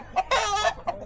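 Native chickens clucking on a farm, a few short clucks and a brief squawk in quick succession, nearby and moderately loud.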